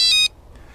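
Carmtek electronic RV door lock gives a loud, clear electronic beep as the code unlocks it, a steady tone lasting about a quarter second before falling quiet.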